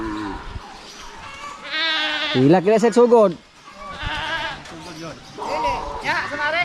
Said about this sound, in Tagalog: Kinuha na yung kambing natin oh.